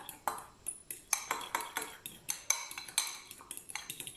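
A spoon stirs homemade play dough ingredients, tinted with a few drops of food colouring, in a bowl, giving a steady run of about a dozen light, close clinks and scrapes with no talking.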